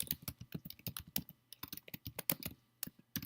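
Close, quiet typing on a computer keyboard: a quick, uneven run of key clicks with a short pause partway through, no talking.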